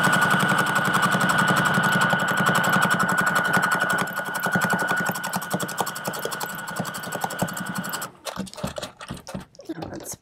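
A sewing machine runs a long steady stitching seam on a tote bag with a fast mechanical whir and rattle, then stops and gives way to scattered clicks and handling sounds near the end.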